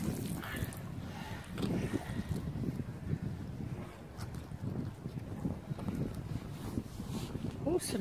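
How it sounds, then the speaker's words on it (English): Gusty wind buffets the microphone outdoors during a magnet-fishing outing, rumbling low and surging in waves throughout. "Oh, suddenly got windy, it's a bit, isn't it?"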